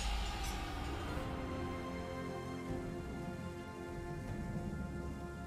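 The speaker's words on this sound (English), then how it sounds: "Ton of rain." Heavy rain falls in the video game Total War: Three Kingdoms, a steady dense hiss that is quiet and constant throughout, beneath a faint sustained musical tone.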